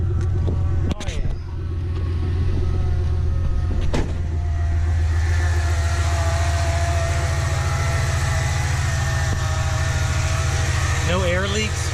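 A 5.3L V8 swapped into a front-wheel-drive car idles with a steady, loud low rumble throughout, a brief clunk near the start and a few faint squeaks near the end.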